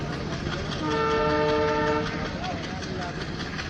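A passenger train pulling away, its horn sounding a sustained tone over the rumble and clatter of rolling carriages, heard from on board and fairly close, with faint voices beneath.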